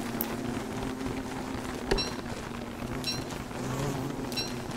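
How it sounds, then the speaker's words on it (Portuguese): Bees buzzing in the survival video game Don't Starve Together, a steady insect hum over constant low background ambience with a few faint high chirps and no speech. "Abelha embaçando com o Chester, mano."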